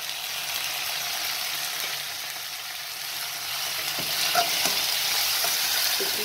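Chopped tomatoes fry with onions in oil for a gravy, giving a loud, even sizzle with occasional stirring scrapes and soft clicks from the spoon, close and without speech.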